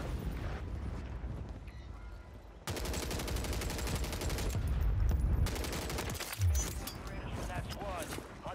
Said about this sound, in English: It is a Glock with the switch, which means if you shoot, it shoots.